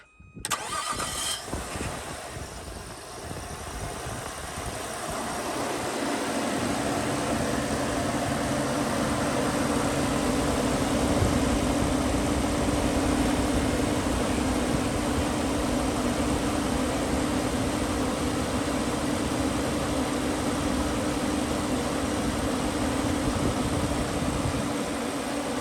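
Upgraded engine cooling fan on a Nissan R34 running after being refitted to the car, a steady loud whirring drone that builds over the first few seconds and then holds constant, with a faint engine hum underneath.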